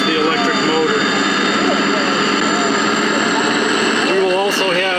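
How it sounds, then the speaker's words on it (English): A TCS WOW sound decoder's diesel prime mover on a model locomotive ramps up with a steady droning engine note and shifting tones, close and continuous, with a voice talking over it. "As you accelerate the handheld, the prime mover will ramp up as well as the electric motor"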